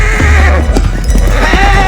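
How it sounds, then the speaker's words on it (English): A horse neighs loudly and close in a Western drama scene, a short whinny over hoofbeats and a low rumbling background. "there's the horse"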